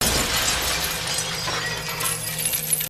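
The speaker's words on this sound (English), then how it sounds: "smashed the mirror against his opponent, sending shards flying everywhere." A glass mirror smashed against someone, sending shards flying: a dense, loud, continuous crash and shatter with scattering debris that runs for about three seconds, with no voices.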